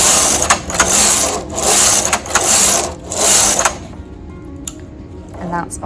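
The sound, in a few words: knitting machine knitting rows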